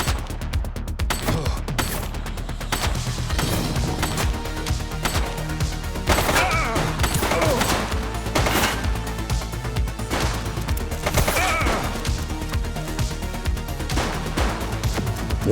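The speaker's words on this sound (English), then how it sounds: "She's shooting!" Gunfire in the police game The Precinct, scattered sharp shots and bursts over a steady background of music and ambience, several cracks spread across the span.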